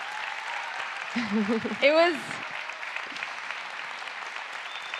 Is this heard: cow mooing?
no